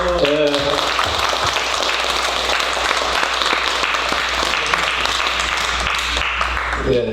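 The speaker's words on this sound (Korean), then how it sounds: "박수 한번 주세요" Sustained applause fills a church gathering honoring an elder's dedication offering, with dense, even clapping from the congregation for several seconds and brief speech at the start and end.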